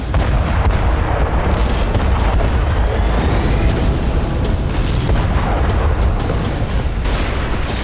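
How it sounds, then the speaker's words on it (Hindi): Loud, continuous rumbling barrage of explosions and gunfire-like cracks as a Russian BM-21 Grad multiple rocket launcher is destroyed, dense and sustained throughout with no pauses. "फिर जोरदार धमाके के साथ रूस के इस हथियार का अंत हो गया"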